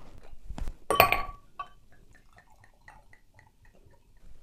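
Glasses clink in a toast, a few sharp bright chinks near the start followed by faint light taps and small clinks, quiet and close.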